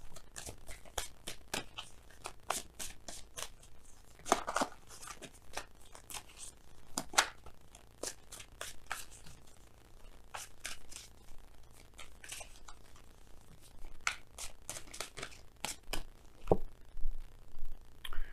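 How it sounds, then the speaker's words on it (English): Cards from a Messenger Oracle deck are pulled and handled close by, with quick papery flicks, slides and light taps coming in uneven bursts, with no voices. "We're gonna go ahead and pull you guys some oracle cards from the Messenger Oracle."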